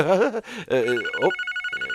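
A telephone bell rings in rapid, evenly pulsed bursts right after a voice speaks, the ring clear and moderately loud once the talking stops.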